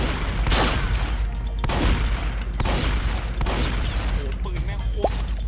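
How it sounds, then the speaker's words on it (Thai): Firecrackers explode in a rapid, dense string of loud sharp cracks and bangs outdoors at night. The bursts go on without a break for several seconds. "ไอ้ฟาร์เอาระเบิดไปจุด"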